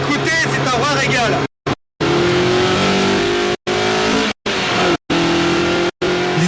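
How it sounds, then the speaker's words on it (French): A Lotus Exige's mid-rear engine revs loudly with rising and falling pitch, broken by a few brief cuts, while someone talks over it throughout. "le moteur central arrière, écoutez, c'est un vrai régal"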